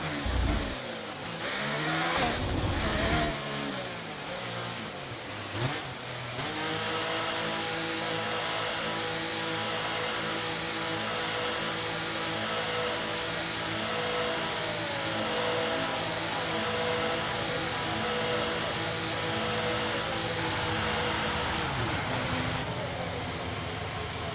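F1 car pit stop in the F1 23 racing game: a steady mid-pitched engine drone with revving after some brief loud clunks and bursts at the start, continuing evenly and fairly loud throughout.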